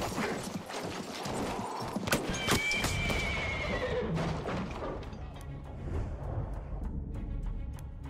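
Horses in the World War I shooter Battlefield 1 whinny loudly and gallop with rapid hoof clatter, amid crashes and distant gunfire, the hooves fading into the background toward the end.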